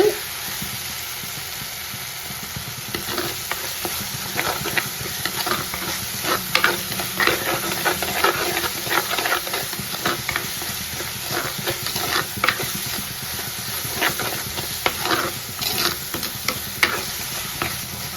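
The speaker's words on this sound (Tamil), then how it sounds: "செம்மையாக வதங்கிடுச்சு வெங்காயம், பூண்டு, இஞ்சி, தக்காளி எல்லாம்" Onion, garlic, ginger and tomato sautéing in a pan for kadala curry, a steady close sizzle with repeated scraping stir strokes throughout and no talking.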